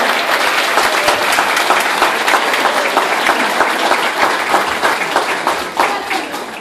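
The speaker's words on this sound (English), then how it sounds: "I just want to give a nice round of applause to Mrs." Parents and guests at a kindergarten commencement give a round of applause, with dense, loud, continuous clapping from a sizable crowd close by that holds steady throughout.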